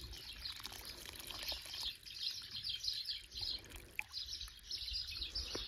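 Birds sing and chirp in a garden, bright repeated twittering phrases over a soft background with faint trickling water; fairly quiet and no talking.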